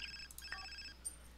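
A Sims 4 telephone rings faintly in a few short electronic chirps over a quiet low hum, heard with no talking.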